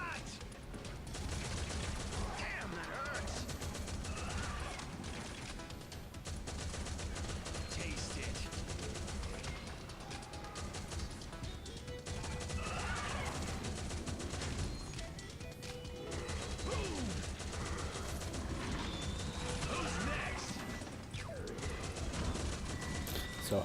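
A Faraday gun in the video game Project Embra fires in dense rapid bursts, loud and sustained gunfire with clattering impacts over about twenty seconds, with occasional pauses and no talking.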